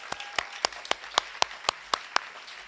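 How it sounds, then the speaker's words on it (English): Applause at the Freehold High School 2021 senior sports awards ceremony, with sharp, evenly spaced claps standing out over a steady crowd clapping background, moderately loud and with no talk over it. "let's give Tony Ann a big round of applause"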